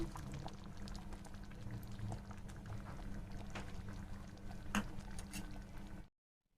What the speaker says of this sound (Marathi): यात आता मी थोडंसं आंबटपणासाठी थोडंसं चिंचेचं पाणी घालून घेते.